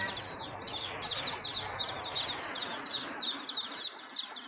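Chicks peep in a rapid, continuous stream of thin high chirps close to their mother hen, fairly faint, with soft clucking mixed in.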